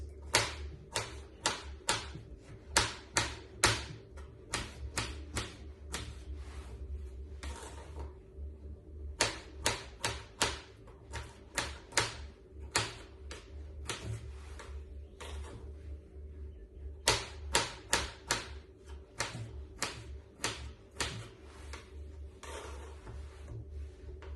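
A knife chops vegetables on a cutting board in quick, dry taps that come in bursts with brief pauses, steady and close, with no one talking.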